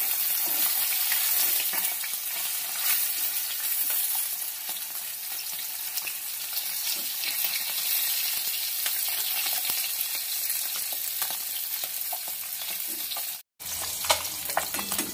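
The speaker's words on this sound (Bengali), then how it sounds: "বেশি ভাজবো না, হালকা করে ভেজে নেব।" Koi fish fry lightly in hot oil with a steady, dense, close sizzle and crackle that runs throughout, broken by a brief cut near the end, with no voices.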